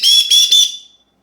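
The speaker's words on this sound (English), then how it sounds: "here is that jet scream whistle" A jet scream whistle gives three loud, piercing shrill blasts in quick succession indoors, then trails off into silence.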